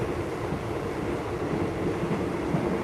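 A passenger train rolls along a line in Thailand, a steady low rumble and rushing noise heard from inside the carriage, constant and even with no talk.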